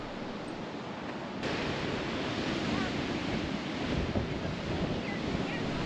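Surf on Florida's Atlantic coast washes in a steady broadband roar, with heavy wind buffeting the microphone and the noise swelling louder after the first second or so.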